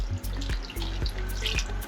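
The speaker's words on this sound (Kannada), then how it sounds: "ಇವಾಗ 20 ನಿಮಿಷ ಬೇಯಿಸೋಕ್ಕಿಂತ ಮುಂಚೆ ಸ್ವಲ್ಪ ನೀರು ಹಾಕೊಳ್ಳೋಣ ಅದಕ್ಕೆ" Water poured into simmering mutton biryani masala in a cooking pot for Dindigul Thalappakattu biryani, giving a close, splashing pour with a few short bursts and drips over a low background hum.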